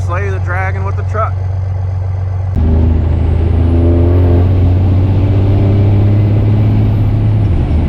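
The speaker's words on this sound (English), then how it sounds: "Obviously you can hear the truck running behind me, warming up." A truck engine idles and warms up close by, a loud steady rumble that grows fuller partway through as it settles into a constant run, with a voice briefly heard at the start.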